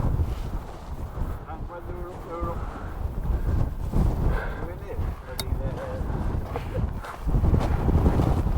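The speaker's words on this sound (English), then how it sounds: "Still windy." Strong wind blowing outdoors on the exposed moorland of Derwent Edge buffets the microphone in a continuous loud rumble while a person talks over it.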